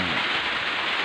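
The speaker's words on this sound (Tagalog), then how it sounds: "umuulan na naman, lakas ng ulan guys" Heavy rain pours down in a steady, dense hiss with no breaks and no voices, a constant wash of falling water.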